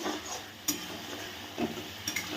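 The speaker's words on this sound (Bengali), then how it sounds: "মশলাটা আমি দিয়ে দিলাম দিয়ে বেশ ভালো করে কষবো যতক্ষণ না মশলা থেকে কাঁচা গন্ধটা চলে যাবে" Spice masala of chili, coriander powder, salt and turmeric being stirred and fried in a pan for pabda fish curry, a low sizzle under a few distinct scraping and clinking strokes of a spoon against the pan.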